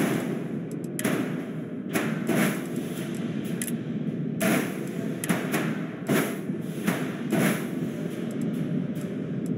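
Ship guns snapping onto a spacecraft in the Starfield ship builder, a series of short, close thumps and clicks in irregular bursts against a quiet background.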